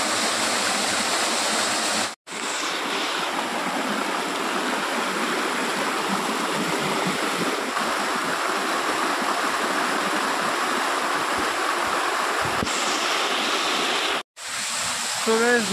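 The waterfall at Bhuvan Pahar gives a loud, steady roar of rushing, splashing water that fills the whole stretch, broken only by two brief moments of silence.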